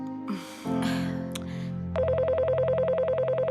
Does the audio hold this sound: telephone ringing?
yes